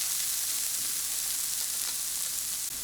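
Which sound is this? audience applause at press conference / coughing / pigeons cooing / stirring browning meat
stirring browning meat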